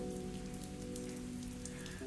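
Steady rain falls in the video game Glory Hounds, a continuous close hiss of drops striking a surface over a low steady hum with sustained tones, at even loudness and with no talking.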